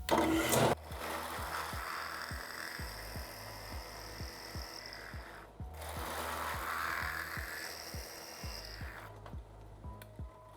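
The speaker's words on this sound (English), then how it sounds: "so I have to do a two-stage drilling operation" A power drill whirs steadily as it bores a hole for a threaded insert in two stages, with a rhythmic low thumping underneath; it stops briefly midway, then starts again.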